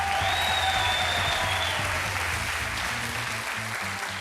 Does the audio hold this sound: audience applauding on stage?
yes